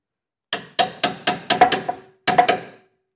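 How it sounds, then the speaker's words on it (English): Sharp metallic knocks from a pry bar working a welded spring perch loose after its welds were ground out with a carbide burr: about seven close, distinct strikes in an uneven rhythm with a short pause, and no talking. "you take a little pry bar of some sort"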